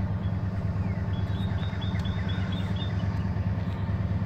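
A 1999 Ford F150 truck sits idling close by, a constant throbbing low engine rumble with a regular beat and light high-pitched whine, unchanging and with no talk over it.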